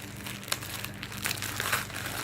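Plastic bag holding bead-filled slime crinkling and rustling continuously at close range, with sharper crackles scattered throughout and no talking.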